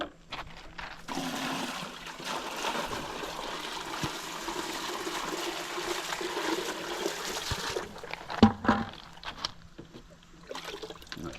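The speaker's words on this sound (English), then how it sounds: "I'm just going to pour it right through there." A bucket of pool water is poured through a salt cell, a steady rushing splash that runs for several seconds and then stops abruptly, followed by a few clunks and drips.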